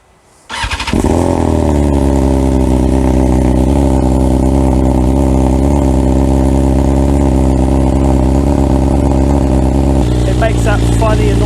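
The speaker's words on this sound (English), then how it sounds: "It makes that funny annoying burbling noise" A 2022 BMW S1000R motorcycle with a Black Widow exhaust fires up on a cold start and settles into a loud, steady, burbling high idle right at the microphone, with a slight change near the end.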